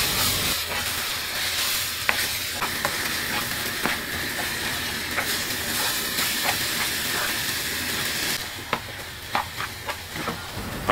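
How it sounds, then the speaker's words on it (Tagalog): Eggs cook in a pan for Ilocano poqui poqui, giving a steady steamy hiss and sizzle broken by irregular scrapes and clicks of stirring. The sound is close and loud, and there is no talk. "Ilagay naman natin yung ating mga itlog at hahaluin lamang natin yan hanggang maluto yung ating mga itlog."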